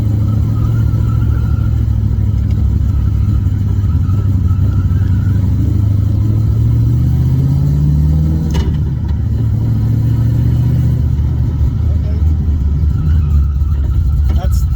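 A 2014 Ford GT500 fitted with a T56 transmission rolls along under its own power, its engine a steady, loud low drone that rises briefly midway, with a person talking over it.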